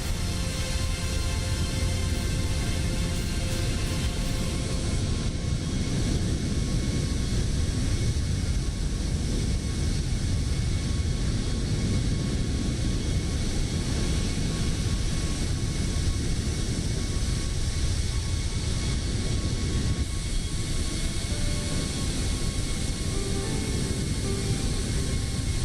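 Airliner cruising in Microsoft Flight Simulator over Canadian airspace, a constant broadband engine and air rush drone held at an even level throughout, with no talk.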